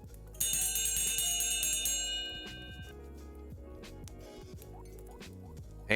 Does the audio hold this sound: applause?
no